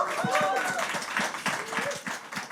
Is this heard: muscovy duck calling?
no